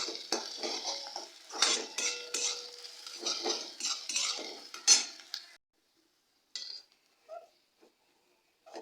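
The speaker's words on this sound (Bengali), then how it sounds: "আমি পেঁয়াজটা দিয়ে দিচ্ছি পেঁয়াজটাকে আমি লাল লাল করে একটু ভেজে নেব" Sliced onion frying in mustard oil in a pan, stirred with a metal utensil. Rapid scraping and clattering strokes come close together for about five seconds, then give way to a few sparse taps and near silence.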